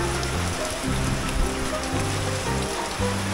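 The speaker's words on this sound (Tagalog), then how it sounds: "Lakas ng ulan." Heavy rain pours steadily onto a surface, a dense continuous patter that holds the same loud level throughout.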